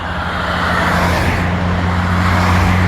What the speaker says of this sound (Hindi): गाड़ियों का काफिला जो है किंग जॉर्ज से होता हुआ 62 एवेन्यू पे जाता हुआ, ये सब लोग जो हैं ये बिल्कुल हॉर्न देते हुए जा रहे हैं